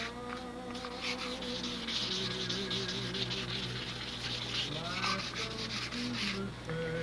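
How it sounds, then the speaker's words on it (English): Wet sanding by hand with flooded sandpaper on a model boat's surface, producing a continuous close rubbing and gritty scrubbing with watery swishes, over a low background hum. "The trick is keep the sandpaper flooded, keep everything clean. Don't let it get dry."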